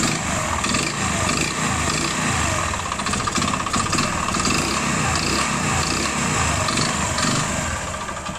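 Old Hero Splendor motorcycle engine running with a seized connecting rod, a loud steady idle with dense rapid knocking and clatter throughout, close up.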